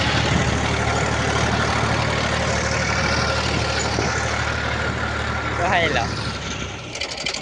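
A tractor idles at a farm field during sowing, a steady low engine rumble that runs throughout and drops off near the end, with faint voices and a brief chirp in the background.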